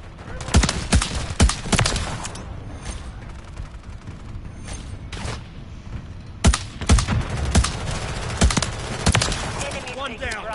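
Call of Duty gunfire during a ranked match: repeated sharp, loud shots and short bursts scattered across the span, some clustered in quick volleys, over a busy background of game effects and occasional voices.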